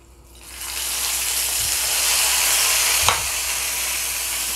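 A hot tempering of mustard seeds, curry leaves and green chillies is poured into a cucumber and ripe mango moru curry, giving a loud, steady frying sizzle with a sharp crackle near the end.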